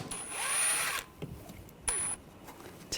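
A power driver fitted with a T25 socket whirs in two short close bursts, a longer one then a brief one, while backing out a screw during valve cover work on a 2006-2010 BMW 550i with the 4.8L V8.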